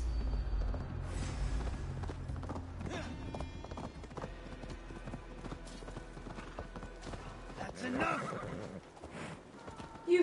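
A horse whinnies and hooves clip-clop steadily on a bridge in Assassin's Creed Valhalla, over a busy game soundtrack with low rumbling, a louder burst near the end.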